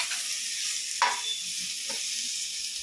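Ginger garlic paste sizzles with onions in a pan, a steady loud frying hiss broken by a couple of brief stirring scrapes.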